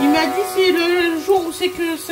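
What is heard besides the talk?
No distinct noise like a dog, phone or traffic.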